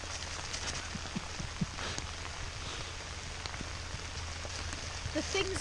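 Rain falls steadily outdoors in a soft, even patter, faint and continuous, with occasional small drops and rustles in the foreground.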